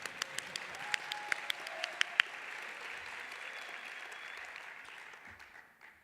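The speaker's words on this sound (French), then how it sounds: "C'est maintenant les applaudissements." Audience applause at a national conference on multi-professional healthcare, a room of steady clapping with a few sharp, close claps early on, then a sustained even patter that slowly thins toward the end.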